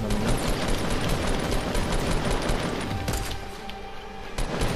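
Gunfire in the video game Fortnite: dense, loud bursts of rapid shots that roll on almost continuously, with a short lull near the end before firing picks up again.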